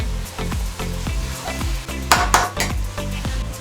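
Spoon stirring chicken gojju with coriander in a pan, rhythmic scraping strokes over a soft steady sizzle, with a couple of brighter metallic clinks midway.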